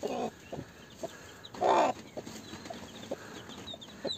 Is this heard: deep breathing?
no